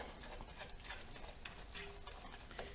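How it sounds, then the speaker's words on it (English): A spoon stirs an oil and flour roux for brown gravy, a soft, steady scraping with faint sizzling, quiet and close, with no talking. "the key is stir this up really, really good"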